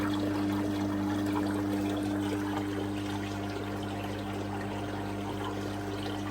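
Water trickles steadily back into a koi quarantine tank, a constant close splash and patter under a low mechanical hum, with no talk.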